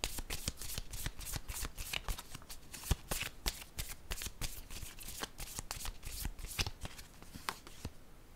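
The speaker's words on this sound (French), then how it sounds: "Je vais déposer une carte sur la zone de confusion." Tarot cards shuffled and laid down, a brisk run of crisp riffling slaps and flicks in quick irregular rhythm, close and clear, with no talking over them.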